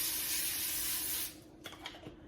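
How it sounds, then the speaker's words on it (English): Cooking spray misted onto the bottom of an air fryer liner, a steady close hiss lasting just over a second, followed by a few light clatters. "I'll spray the bottom of it so they won't stick."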